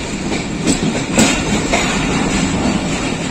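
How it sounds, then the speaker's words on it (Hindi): The Pakistan Express passenger train arriving at Wazirabad Junction, heard from on board as a steady loud rumble of rolling wheels with faint clacks over the rail joints, continuous for a few seconds without speech. "पाकिस्तान एक्सप्रेस वज़ीराबाद जंक्शन पहुंच गई है।"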